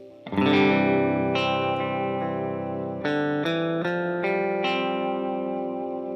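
Electric guitar through a reverb effect, with sustained chords ringing out and new strums entering midway, each leaving a long, smooth tail that fills the space.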